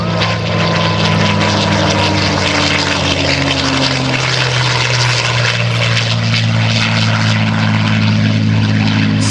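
A propeller airplane makes a low, close pass by the control tower at the 2009 Joint Services Open House airshow: a loud, continuous engine drone that swells and shifts pitch as the aircraft sweeps by.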